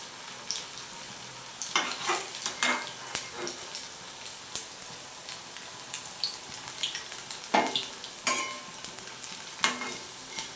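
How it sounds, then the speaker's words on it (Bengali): Pakoras fry in hot oil with a continuous crackling sizzle, punctuated by irregular bursts of louder bubbling and clinking as the pieces are turned and lifted out. No one speaks. "সব লাল করে ভেজে আমি তুলে নিচ্ছি।"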